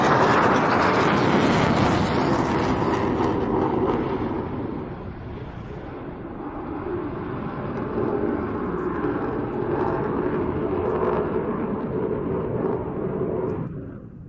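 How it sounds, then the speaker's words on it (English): A military jet passes low over the runway at an air display and then goes around, its engine roar loud and broad at first, easing slightly, then swelling again before cutting away at the end. "it looks like we're going to get another partial fly through and go around from the second jet as well"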